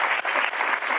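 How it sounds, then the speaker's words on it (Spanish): An audience claps in steady, dense applause, a full continuous wash of hand claps from a crowd that holds for the whole second without letting up. "Un gran aplauso a Jorge también."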